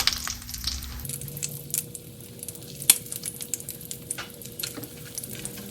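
Minced pork cutlets sizzle and crackle steadily in a pan, with scattered pops and a few light clinks of a utensil. Close and moderately quiet, with no voices.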